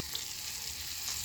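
Onions frying in cooking oil for an eggplant and okra dish, giving a steady, close hiss and sizzle with no talk over it.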